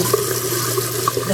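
Water running from a tap into a kitchen sink while rinsing soap off dishes, a steady close splashing flow with small bursts of spatter.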